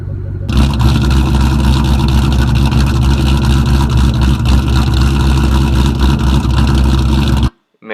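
A 2001 Ford Mustang Bullitt V8 idles loud and near, a dense steady rumble with a throaty burble that holds for about seven seconds and then cuts off abruptly.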